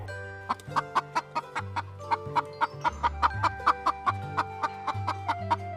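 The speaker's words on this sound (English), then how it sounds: "H for hen." A hen clucks in a quick, steady string of sharp, evenly spaced clucks, set over a bright backing of music with low bass notes.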